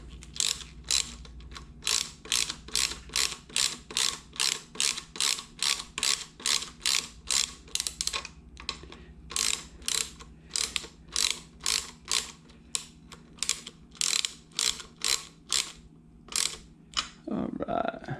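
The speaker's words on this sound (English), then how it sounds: "Put our nut on. Go ahead and tighten it down a little bit." A ratchet wrench tightens the nut on a Harley-Davidson Sportster Iron 883 mirror mount, giving long runs of crisp, evenly spaced clicks close by with brief pauses between strokes.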